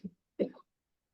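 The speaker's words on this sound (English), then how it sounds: "I hope I'm not going to go into a coughing fit now." A short cough, then a second, louder cough about a third of a second later, close and alone against silence.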